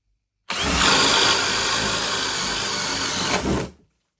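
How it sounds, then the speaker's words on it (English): Cordless drill in drill mode at speed 3 on a power pack battery, boring with a paddle bit: a loud continuous whine and grinding rasp for about three seconds, then spinning down. "And we are in speed 3 in drill mode, using a power pack battery."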